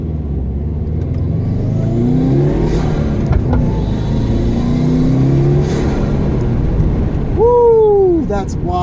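A 2012 Subaru WRX with a Cobb tune pulls away in first gear. The engine drones and rises in pitch as it revs up, then a sharp upward sweep follows near the end, heard from inside the car.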